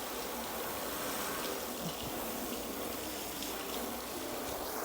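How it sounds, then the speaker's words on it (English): A garden hose sprays water over the ceramic-coated side of a car during a rinseless wash, a soft, continuous rushing hiss that stays even and fairly faint throughout. "And I'm going to rinse off the left side first with just the hose."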